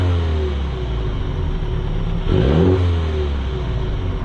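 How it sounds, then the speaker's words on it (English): A 2022 MINI JCW engine idles with a low rumble through its sports exhaust, then revs sharply once and settles back to idle. "I wonder if the exhaust sounds any different between 2021 model year and 2022."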